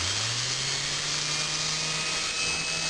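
A small universal motor spins at high RPM with a continuous, loud, high whine and hiss, its pitch rising slightly as it spins up and then holding steady, close by and with no talking.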